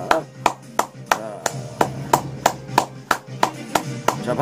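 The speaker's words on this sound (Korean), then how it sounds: "박수 한번 부탁드리겠습니다" Sparse, evenly spaced claps, about two per second, at a Korean current-affairs talk show, with faint talk underneath.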